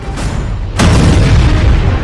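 Explosion at a Russian weapons depot in Krasnodar, heard as a sudden loud boom that breaks over a steady background rumble. A dense roar continues after the blast.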